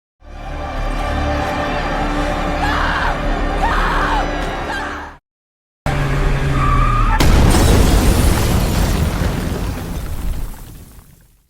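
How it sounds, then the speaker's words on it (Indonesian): A suicide bomb detonates at Kabul airport during the 2021 evacuation, a sudden loud blast after a brief silence, followed by rumbling debris and noise that slowly fades out. "Ledakan itu menewaskan sedikitnya 13 anggota militer Amerika, termasuk Nicole, dan 169 warga sipil Afghan"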